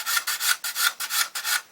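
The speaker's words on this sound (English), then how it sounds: "I'm keeping the sanding stick tight up against the top" A sanding stick rubs back and forth on the plastic bodywork of a 1/12 Italeri Lancia Stratos model, six or seven steady rasping strokes in a regular rhythm, close and fairly loud.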